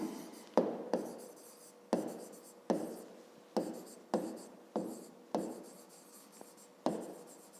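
A pen writing by hand on paper during a fifth-grade maths exercise, producing a series of soft, close scratching strokes in short bursts with sharp starts, faint and quiet, no speech.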